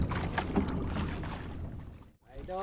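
A fishing boat at sea at night among many other boats, on full-moon squid fishing, with water sloshing and wind rushing for a couple of seconds before a short pause and faint voices.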